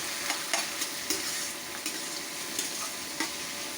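Shrimp fry in a pan with a soft continuous sizzle, punctuated by several light stirring clicks and scrapes, close and fairly quiet.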